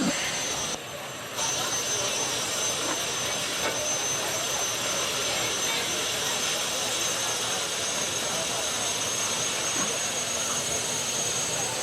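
A pulling tractor's engine spools up at a county fair tractor pull, giving a loud, continuous broadband roar with a high whine that holds steady throughout, with one brief dip near the start.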